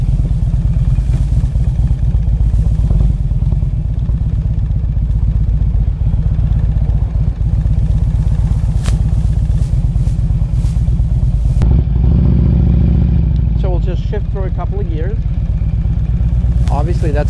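A 2007 Harley-Davidson Road King Classic motorcycle's engine rumbles loudly and continuously as it is run through the gears, with pulsing low thumps and shifts in pitch, while someone talks over it.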